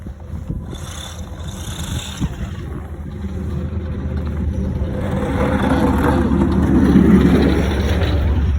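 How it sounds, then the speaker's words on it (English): A truck drives past on a cold outdoor road, its engine rumble building from a distant hum to a louder peak near the end and easing slightly, with no talking. "wait till this truck go past"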